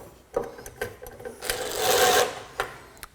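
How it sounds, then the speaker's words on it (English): A power driver sends wood screws into the pre-drilled face of a custom closet: a few short clicks and taps, then a sustained whirring run of about a second, close and fairly loud. "first thing we'll do is attach the face with the wood screws"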